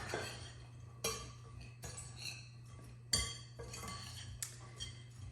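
A spoon stirs taco ingredients and cilantro in a pot, giving sharp metallic clinks at irregular intervals over a low, steady hum. The clinks are fairly quiet, and no one speaks.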